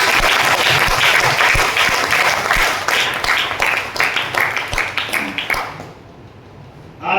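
A seminar audience applauds loudly and continuously for about five seconds, then the clapping thins into scattered claps and fades out, with a voice briefly starting near the end.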